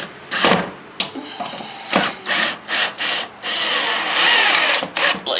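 A power drill drives screws into damaged drywall during a small-hole repair, the motor whirring in a run of short bursts followed by one longer sustained spin, close and loud.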